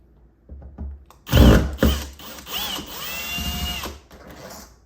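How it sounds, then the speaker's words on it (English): A power driver with a Phillips bit whirs in several short bursts, close by, removing long deadbolt screws from a door, with a loud clunk or two and a steady motor whine. "We're going to use a Phillips head screwdriver to take these out."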